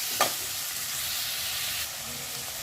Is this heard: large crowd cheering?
no